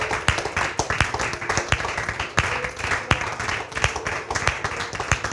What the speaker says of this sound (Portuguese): Se concordas comigo, aplaudo o Todo-Poderoso nesta manhã.